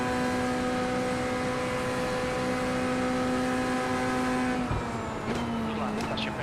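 A race car engine drones at a steady high pitch in a sim racing game, loud and continuous for several seconds before shifting gears and dipping near the end.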